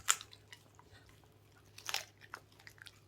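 A corgi chews raw chicken up close, with faint wet bites and a few sharper crunches scattered irregularly against a quiet background.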